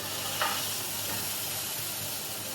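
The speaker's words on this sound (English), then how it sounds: "Doing the top bit of the meat, letting that sear" Beef for a traditional Beef Wellington sears in a hot pan, giving a steady, close hiss of sizzling fat with one small crackle near the start and no voices.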